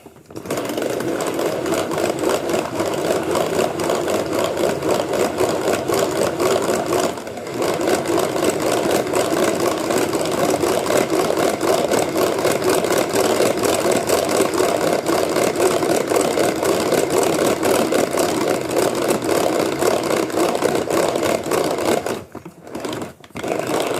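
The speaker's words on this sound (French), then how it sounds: "Et on monte les blancs en neige. En vitesse 1." Electric hand mixer whipping egg whites with a pinch of salt at low speed for a tart dough, a loud, steady motor whir held for about twenty seconds, with a brief dip near the start and a stop near the end.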